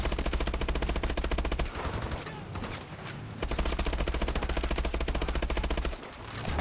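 Automatic gunfire from the shooter video game Advanced Warfare rattles in long rapid bursts with brief gaps, loud and dense, filling nearly the whole stretch.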